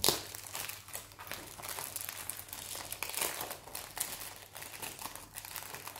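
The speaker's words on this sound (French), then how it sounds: "Donc là, un petit paquet. Comme ça. On va ouvrir." A small packet crinkles and rustles as it is opened by hand, a steady close crackling of thin plastic or paper running for several seconds with no talking.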